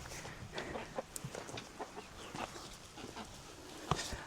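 Local free-range chickens kept at a rural mountain home cluck in short scattered bursts, moderately distant and fairly faint over a steady outdoor background.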